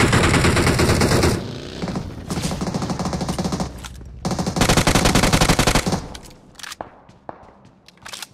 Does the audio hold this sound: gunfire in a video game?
yes